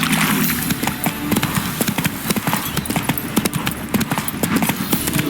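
Horse hooves clip-clop steadily and loudly in The Witcher 3, a brisk regular trot close up against a continuous outdoor rumble.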